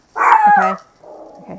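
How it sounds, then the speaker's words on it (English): A dog barks close by in one sharp, yelping bark, followed by a quieter trailing sound, while a person says a brief word. "And that's my dog barking."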